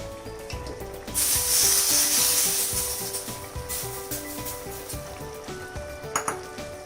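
Ghee and masala hit sizzling mutton keema in a pot, bringing a sudden loud hiss that swells and then fades into a softer sizzle, with a few utensil clinks near the end.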